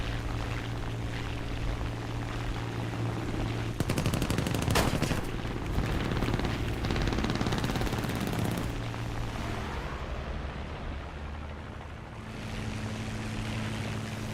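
American .50 cal aircraft machine guns firing in the combat flight game War Thunder, loud rapid bursts over a constant droning engine hum, with a long sustained stream of fire in the middle.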